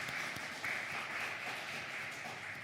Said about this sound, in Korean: 우리 축복하는 박수 한번 하도록 하겠습니다.